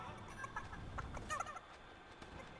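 A chicken in the Fortnite video game clucks in a few short, faint bursts, soft fowl calls spaced through the first half and trailing off, heard alone at low level.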